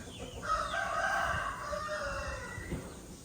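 A rooster crows once nearby, a long rising-and-falling cock-a-doodle-doo, with faint clucking and outdoor background noise.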